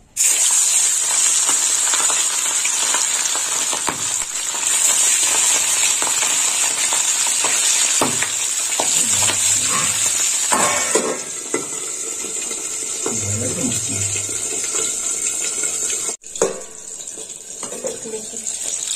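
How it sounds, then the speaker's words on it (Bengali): Tangra fish rubbed with salt and turmeric hits hot oil in a kadai, giving a loud, continuous close-up sizzle with hissing spatter that shifts midway and dips briefly near the end. "গরম হয়ে গেছে, এবার আমি মাছটা দিয়ে দেবো কড়াই।"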